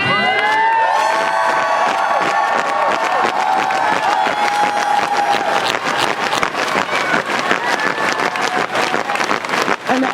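Crowd cheering at a drag queen and allies march to the Florida State Capitol in Tallahassee, loud sustained screams, whoops and shouts with clapping, close and continuous throughout.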